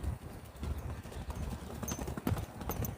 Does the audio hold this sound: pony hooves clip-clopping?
yes